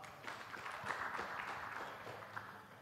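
Audience at a housing expo panel applauding for a panelist, a soft, distant, continuous patter of clapping from a crowd.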